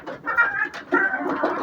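A rooster clucks in a yard, a couple of short throaty bursts heard close and fairly loud.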